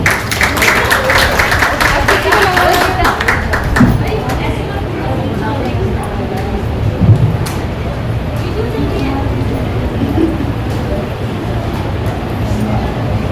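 Applause from an audience welcoming a speaker to the stage at a foundation's first anniversary event, dense steady clapping that stays loud throughout with faint voices underneath.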